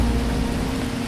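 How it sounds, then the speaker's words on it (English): Steady heavy rain pouring down on a hostile alien planet in a strategy video game, a loud dense hiss that holds constant throughout. "When the rain is pouring down."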